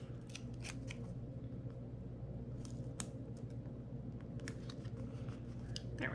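Scissors snipping off paper scraps, a series of crisp close cuts in uneven clusters over a low steady hum, with no talking.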